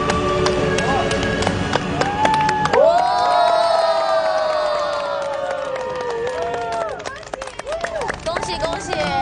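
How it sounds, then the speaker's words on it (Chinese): Audience at a televised talent show cheering and applauding the contestant groups, a dense crowd roar with scattered claps and shouts throughout, while a voice sings or speaks over the middle section. "再次掌声送给三组达人"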